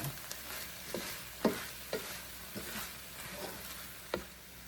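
Garden vegetables stir-frying in a pan, with a steady low sizzle broken by several distinct clacks and scrapes of stirring at irregular intervals, close and moderately loud.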